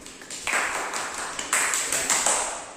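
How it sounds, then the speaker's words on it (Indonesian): Scattered clapping from a classroom of students applauding a classmate, a few uneven bursts of claps that swell and fade in waves, fairly close and moderately loud. "Mari kita tepuk tangan buat Rizky"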